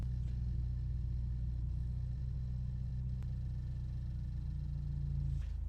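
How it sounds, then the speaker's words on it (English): A car engine idles in a steady low rumble while a battery tester runs, close and even with a few faint clicks, no speech. "Okay, the engine's already started, so we're going to hit start."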